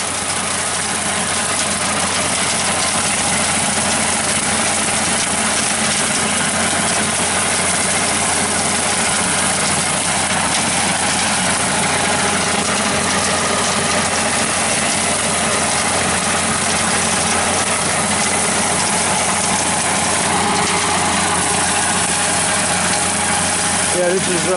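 A 5-foot brush hog with two new blades, pulled by a tractor, cuts through grass with a loud, dense, unbroken engine and blade roar, while a voice talks over it.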